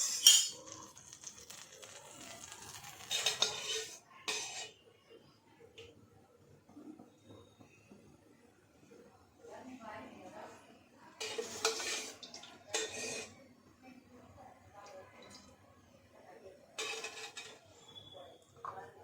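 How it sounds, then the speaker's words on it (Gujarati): A kadai set down and oil poured in while cooking a Rajasthani stuffed chilli sabji: a few sharp metallic clinks and scrapes, close and quiet, separated by stretches of near silence. "હવે આપણે કઢાઈ લઈશું, એમાં તેલ રેડીશું થોડું।"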